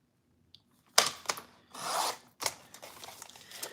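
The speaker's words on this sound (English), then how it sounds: "let's go ahead and trim this one now down to 4" Paper for a traveler's notebook is trimmed up close with a short rasping cut, a longer slide and a few lighter scrapes and clicks in an otherwise quiet room.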